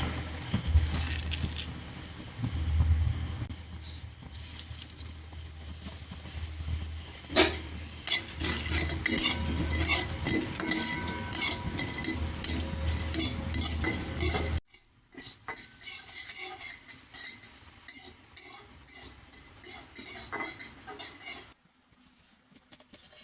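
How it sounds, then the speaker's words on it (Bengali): Cumin, coriander seeds and dried chillies are dry roasted in a pan, with continuous stirring, scraping and metallic clinks up close, growing quieter and sparser toward the end. "এখানে ধনিয়া জিরে আর শুকনো লঙ্কা শুকনো খোলা ভেজে নেবো"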